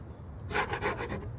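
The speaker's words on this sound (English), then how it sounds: "We try to remove the loose paint, but we have a little problem with this putty knife or scraper" A putty knife scrapes loose paint off a wall in a few quick, rasping strokes, close and fairly quiet, with no talking.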